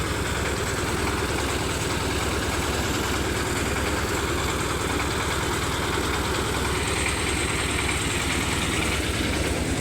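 Engine of a mobile rice milling machine in Laos, running at a steady idle: a loud, unbroken droning hum with a throbbing vibration that lasts throughout without pause.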